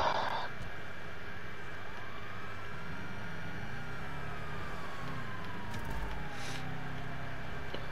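A police car siren in a racing video game wails steadily in the background, rising and falling slowly, over a constant engine drone and a few faint knocks.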